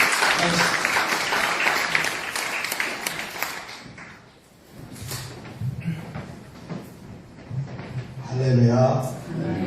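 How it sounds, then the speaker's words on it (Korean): Audience applause at a church mission gathering welcomes the senior pastor to the stage, a dense wash of clapping for about four seconds that fades as talk and movement noises take over. "박수로 모시겠습니다"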